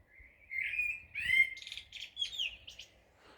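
Birds chirp and tweet in the dark at 3:55 a.m. before dawn, giving a few bright, close calls and quick twittering phrases against an otherwise quiet night.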